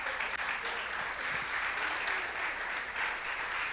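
A church congregation applauds, a sustained crowd of clapping hands filling the space evenly and steadily at moderate loudness, without any speech over it.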